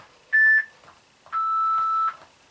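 Two electronic timer beeps from a home workout interval timer, a short tone followed by a longer sustained one, clear and close in a quiet room.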